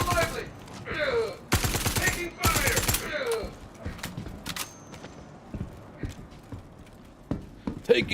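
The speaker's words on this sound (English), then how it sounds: "right in the face you're taking fire" Bursts of gunfire in a Star Citizen firefight, loud rapid volleys in the opening seconds, then scattered sporadic shots with faint talk in the background.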